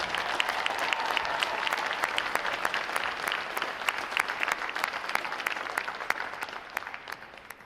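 A large crowd of family and friends at a U.S. Navy boot camp graduation ceremony at Recruit Training Command applauds steadily, a dense, sustained wash of clapping that fills the whole stretch and eases slightly at the end.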